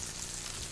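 Hot oil sizzling in a pan, a brief, dense, even hiss with fine crackle, close up and with no voices over it.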